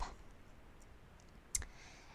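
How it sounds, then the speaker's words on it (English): Computer mouse clicks: a faint click at the start and a sharper, close click about a second and a half later, each short and isolated against a quiet room hum. "So I double click and open Hot Potatoes, and on that I click on J-Close"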